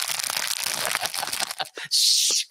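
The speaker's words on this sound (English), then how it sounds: "Stop coughing and stop rustling that packet of Dr. Bayard." A packet of Dr. Bayard throat lozenges crinkles and rustles up close in a quick burst of crackling handling, followed by a brief sharper hiss of wrapper noise.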